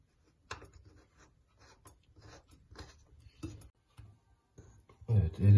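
A plastic nut being spun onto a thread by hand gives a run of light, irregular ticks and small clicks, fairly close and quiet, ending in a louder rubbing handling noise.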